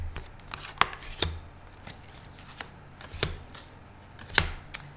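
Tarot cards being shuffled by hand, a quick series of soft, irregular flicks and riffles up close in a quiet room.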